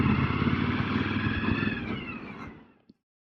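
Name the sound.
Kawasaki Vaquero motorcycle pulling up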